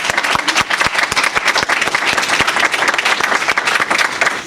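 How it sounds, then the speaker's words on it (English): Dense, loud applause from the audience at a national healthy schools awards program, many hands clapping in a rapid, sustained patter with individual sharp claps throughout. "Let's give them another round of applause."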